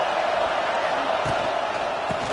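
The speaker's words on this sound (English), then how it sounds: "Listen to this crowd just shaking the girders of this place, trying to help their defense." A packed stadium crowd at a football game roars loudly and steadily in support of the home defense, a dense, continuous wall of cheering throughout.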